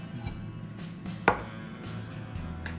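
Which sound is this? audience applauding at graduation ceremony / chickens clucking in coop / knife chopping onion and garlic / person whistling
knife chopping onion and garlic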